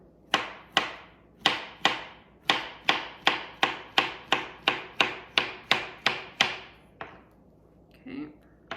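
A knife slices bananas on a cutting board in about fourteen sharp, evenly paced chops, close and crisp, followed by a short pause and a faint rustle at the end.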